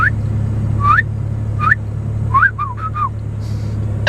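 A person whistles several short, rising chirps in irregular bursts inside a Chevrolet Camaro with a V6, over a steady low engine hum.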